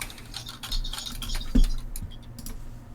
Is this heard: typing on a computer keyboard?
yes